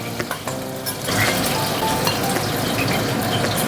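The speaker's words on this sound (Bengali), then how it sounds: "মাছগুলো হালকা করে ভেজে নেব।" Hilsa fish pieces lightly fry in hot oil with a loud, steady sizzle that swells after a few opening clinks and taps, crackling continuously up close.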